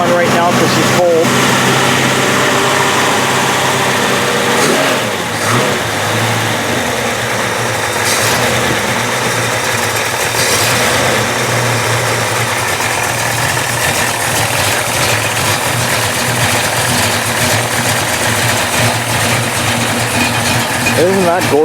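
A cold 1936 Ford engine idles loud and steady with its choke on, a deep continuous rumble with slight rhythmic roughness filling a workshop while someone talks over it.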